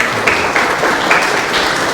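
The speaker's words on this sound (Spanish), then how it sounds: "Recibimos con fuerte aplauso al doctor José Oviedo Palomino" An audience at a political training day claps strongly to welcome a doctor to the stage, a continuous wash of hands with slight swells, no speech over it.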